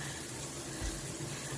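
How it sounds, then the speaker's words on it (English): Shower water running steadily, a soft, continuous hiss and splash close by with no talk. "And it's time for a shower."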